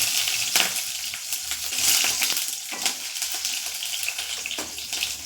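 Green chillies drop into well-heated oil for cabbage manchurian, giving a steady, close hiss and crackle of frying with sharper spits throughout, no voices.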